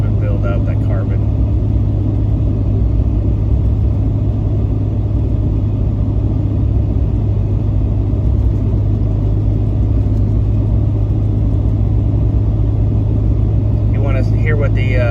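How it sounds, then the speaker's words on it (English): A diesel truck with its EGR and DEF systems deleted, a loud, steady low exhaust rumble and drone throughout, with a faint voice at the start and end. "Hear what the exhaust sounds like."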